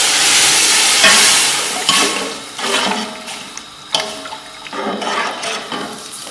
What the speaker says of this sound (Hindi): भूनने के बाद हम इसमें ये 2 गिलास यखनी हम ये डाल देंगे।